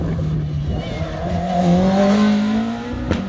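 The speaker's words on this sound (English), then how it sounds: "Car from the 1980s, GT racing car." A 1980s Lotus Esprit GT racing car accelerating hard at the Isle of Wight speed trials at the Sandown sprint, its engine note rising loudly and continuously through the gears as it passes fairly close, with no talk over it.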